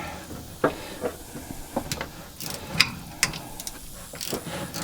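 A ratchet with a 1/4 inch socket works a strap bolt loose on a washing machine being scrapped, giving a close series of short, irregular metallic clicks and ticks over a low background hiss.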